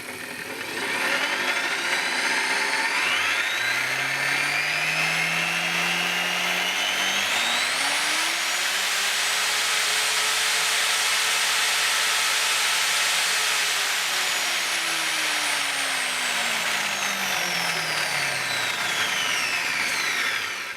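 An angle grinder motor wired straight to an isolation transformer, spinning up to a loud steady whine with harsh broadband hiss, holding speed, then winding back down.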